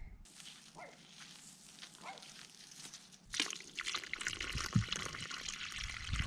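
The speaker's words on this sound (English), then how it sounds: "So I'm gonna go water some trees." Garden hose watering trees outdoors on a hot day, a bright hissing spray starting abruptly midway and running steadily close by, after a quieter stretch with faint rustling.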